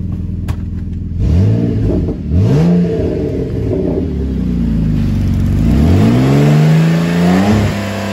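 A Saturn Aura XR with a 3.6 engine revving up close, several rising and falling pulls followed by a longer sustained rev that climbs and holds before dropping off, loud and alone.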